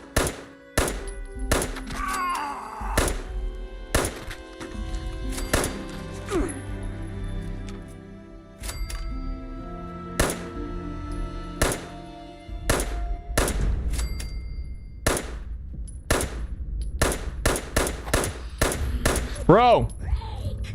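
Repeated gunshots from firearms in the video game Fallout 76, sharp loud bursts coming in irregular clusters over a low rumbling game soundtrack, with a voice talking at times.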